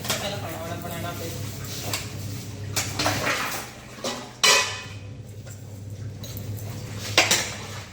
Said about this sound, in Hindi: इधर बर्तन धुल जाएंगे